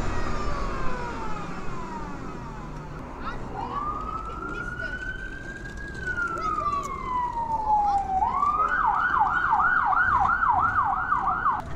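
Two police cars' sirens wail nearby over road noise in London, heard from an Energica Eva Esseesse9 electric motorcycle, a long rising and falling tone that shifts into a rapid yelping pattern.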